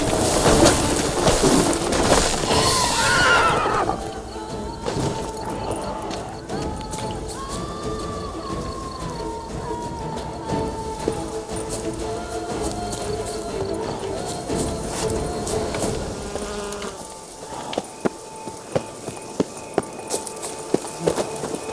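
Horse riding in The Witcher 3 video game: a loud opening burst gives way to ongoing hoofbeats, with tonal game sounds running under them and sharp clip-clop hits returning near the end.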